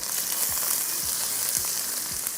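Onions frying until brown keep up a steady, bright crackling sizzle in the pan, heard close and alone, with faint low knocks every half second or so beneath it.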